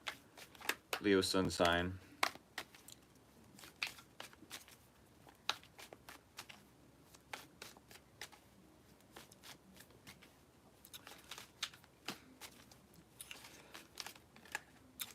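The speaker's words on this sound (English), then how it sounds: "when I do the bridge shuffle" Tarot cards being shuffled during a reading, a run of crisp riffling clicks and soft card taps scattered across the stretch, following a short spoken remark at the start.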